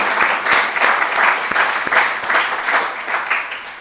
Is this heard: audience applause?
yes